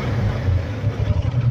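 A 2023 Honda CB750 Hornet motorcycle rolls through a narrow Spanish alley, its engine a close, steady low rumble with slight surges in throttle.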